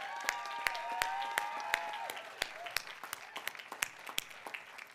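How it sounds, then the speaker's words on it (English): Scattered individual claps ring out at a graduation commencement ceremony, sharp separate hand claps spaced irregularly over a quiet room with a faint tonal hum, fairly close and thin rather than a full crowd. "So let's have another round of applause for our two champions here."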